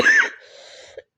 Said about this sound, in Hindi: खांसी बहुत हो रही है